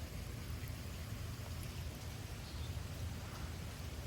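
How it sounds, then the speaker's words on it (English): Steady, windless rain falls in the calm after a severe thunderstorm in Frisco, Texas, a soft continuous hiss heard faintly and alone. "There's no wind now, it's just rain."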